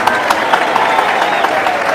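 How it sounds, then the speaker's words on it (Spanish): Audience applause for a priest at an evangelical gathering in La Unión, El Salvador: steady, dense clapping from a crowd, moderately loud and continuous throughout. "Pido un aplauso para el Padre Toro por estar aquí acompañándonos"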